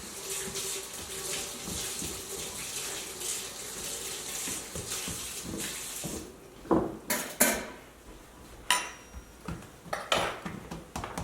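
Running tap water rinses licked mixer beaters in a sink, a steady close splash followed by sharp metallic clinks and clatters as the beaters knock against the basin.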